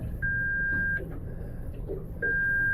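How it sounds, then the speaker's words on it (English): The GPS unit on a Hewescraft 210 Searunner boat sounds a steady high electronic tone. It holds for under a second, pauses, then sounds again, quiet against a low hum of background noise. "If you want that to quit beeping, just hit any button up there"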